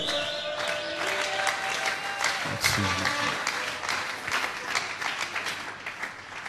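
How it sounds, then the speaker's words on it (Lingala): Loud, sustained applause from a church congregation, dense clapping that swells and carries on for several seconds with some voices mixed in. "Acclamons très fort pour le route."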